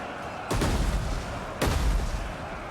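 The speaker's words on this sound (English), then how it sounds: "Artillery coming in." Two heavy artillery booms in the Total War: Rise of Mordor siege battle, each a sudden loud blast followed by a rumbling tail, about a second apart.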